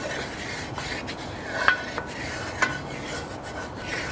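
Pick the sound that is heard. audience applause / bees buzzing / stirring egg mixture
stirring egg mixture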